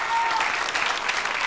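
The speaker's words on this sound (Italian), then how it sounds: "Facciamo un applauso alle ragazze." A theatre audience at a staged performance claps in a brief, dense burst of applause, moderately loud and continuous.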